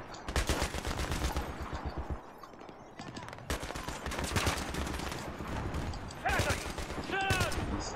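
Rapid bursts of automatic gunfire and single shots crack through a Battlefield 3 firefight, loud and nearly continuous, with a few metallic pings near the end.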